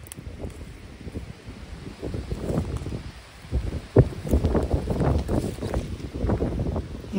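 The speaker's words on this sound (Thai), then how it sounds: "วันนี้ก็ลมแรงมากๆเลยค่ะ" Strong gusty wind blows outdoors while wild spearmint and neem shoots are being picked, with broadband rushing rising and falling in repeated gusts and a brief sharp knock near the middle.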